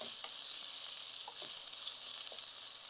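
Steady, soft sizzling of onions frying in a pan, a constant hiss with a few faint clinks of stirring, no voices.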